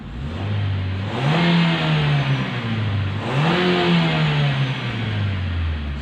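A Renault Megane 4 engine, just cleared of an injection fault, idles and is revved twice. Each rev rises sharply and then falls back to a smooth idle, loud and close, with no speech.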